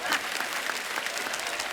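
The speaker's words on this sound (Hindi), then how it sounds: "इनके कुक के लिए जोरदार ताली।" Studio audience on a Hindi comedy talk show claps briefly and vigorously, a dense, even burst of applause lasting under two seconds.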